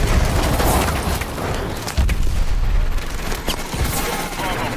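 Sustained bursts of rapid gunfire crackle over a dense rumble in Call of Duty: Advanced Warfare, loud and continuous, with faint speech buried underneath.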